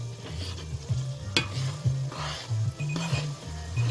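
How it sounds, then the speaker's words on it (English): Samyang Green Mala Buldak hot chicken instant noodles being stir-fried in a pan, with steady scraping stirs over a continuous close sizzle, occasional clinks of utensil on metal. "it's been going for like 30 seconds stir frying"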